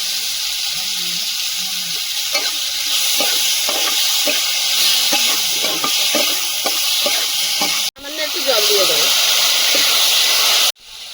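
Chopped tomato dropped into hot oil in a home kitchen pan for Bengali egg and potato curry, giving a steady loud sizzle with stirring scrapes, a voice talking over it and two brief cutoffs.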